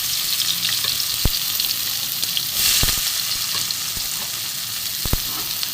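Chopped onion fries in mustard oil with black cumin, a bright continuous sizzle with a few sharp ticks and stirring knocks, close and steady.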